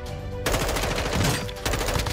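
An M16 rifle in the video game DMZ fires in rapid bursts, close and sharp, with a short pause between volleys.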